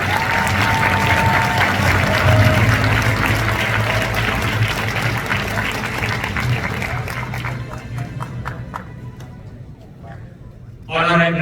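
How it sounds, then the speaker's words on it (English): Loud applause from the audience at an anniversary ceremony, dense clapping that slowly thins and tapers off, with a brief burst of sound near the end. "Let's once again welcome him with a big round of applause."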